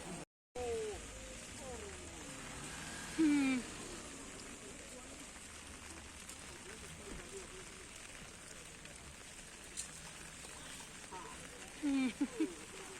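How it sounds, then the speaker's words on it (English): Rain falls steadily during an outdoor day at the Shirui Lily Festival, a soft continuous hiss underlying the scene while voices and brief calls come and go. "It's raining the whole time."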